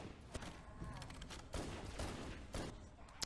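Pistol fire in the Halo video game, with several loud sharp shots and bursts spread across a few seconds and brief game noise between them.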